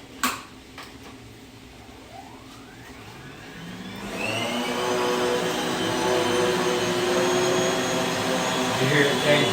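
A vacuum cleaner strains to pull air through a cloth, starting as a steady hum and then rising into a louder, harsher roar with a shifting pitch that holds to the end.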